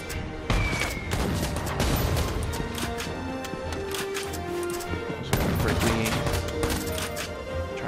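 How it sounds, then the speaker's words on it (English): Rapid gunfire from the Valkyria Chronicles 4 video game, a dense run of loud sharp shots and impacts, with a fresh volley starting partway through, set over battlefield noise and music. "Try and gun down our friend here."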